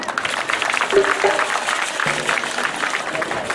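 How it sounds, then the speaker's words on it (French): An audience at an investiture ceremony in Treichville applauds and cheers for the mothers present, a steady moderate clapping crowd heard through the whole stretch, with a voice briefly audible over it. "Je voudrais qu'on acclame encore très fort parce que c'est la fête de toutes nos mamans"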